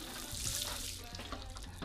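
Water poured over the leaves of a potted bay laurel, a continuous splashing and trickling wash that is close and steady, with no talk.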